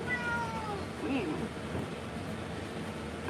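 A Maine Coon cat during a bath gives a drawn-out, mournful meow near the start, followed by softer cries amid room noise and water sounds.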